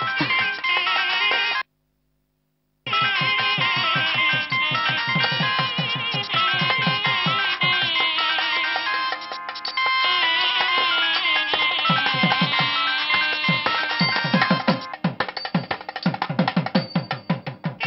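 A mobile phone rings with a loud, continuous electronic melody, repeating tones that pause briefly near the start and then carry on without any voices.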